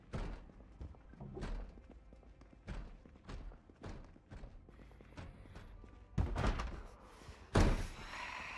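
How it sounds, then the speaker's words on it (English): Repeated heavy thuds of a door being battered and broken down in the video game Project Zomboid, a steady series of blows with two louder, sharper slams near the end. "Someone's breaking down a door real quick."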